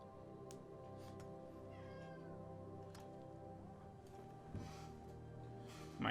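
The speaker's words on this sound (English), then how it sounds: "My cat disrupting the stream" Domestic cat meowing near a game stream, a few faint, drawn-out meows spread over a quiet background hum, with a slightly louder call at the end.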